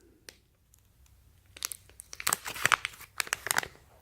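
Foil bag packaging crinkling as it is handled, a few faint crackles at first, then louder, denser crumpling and rustling close up, with no talking.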